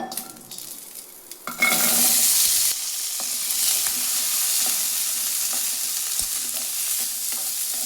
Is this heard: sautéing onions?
yes